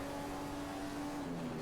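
Steady, droning engine note of a Ferrari-engined Formula 1 car in the F1 2015 racing game, holding a constant pitch with a slight drop near the end, continuous and fairly quiet.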